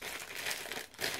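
Plastic bag crinkling close up during an unboxing of a mystery parcel, a short burst of rustling and crackling with a brief lull before a final crinkle.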